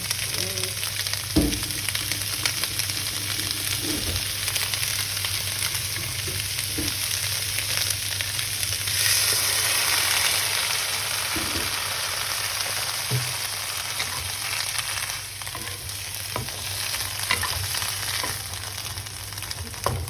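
Vegetables cooking in a pan with a little water added, a steady close sizzle and bubbling with occasional stirring knocks, no talking.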